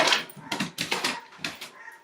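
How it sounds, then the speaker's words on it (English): A household dog barks and whines in a string of short, sharp yips and whimpers. The dog is close and loud, with uneven gaps between bursts and no talking. "Oops, there goes our dog."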